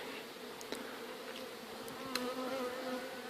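Honeybees buzz steadily around hives being readied for winter, with a faint continuous drone and a few brief louder passes of individual bees close by.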